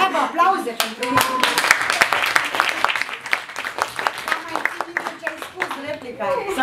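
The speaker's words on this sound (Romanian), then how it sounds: "Bravo, aplauze pentru mine." Scattered hand clapping from a group at a former students' reunion at a Chişinău high school, irregular and moderately loud, with voices talking over it throughout.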